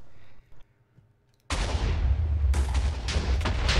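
Heavy explosions go off in a PvP video game, with loud sustained booming and crackling bursts after a quiet start, layered with several sharp blasts.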